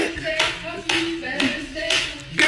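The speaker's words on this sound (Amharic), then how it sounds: "ግን ሁለት ጭብጨባ ነው የሚሰማው" A few sparse, separate hand claps ring out at a steady interval among a small group, with voices murmuring beneath them.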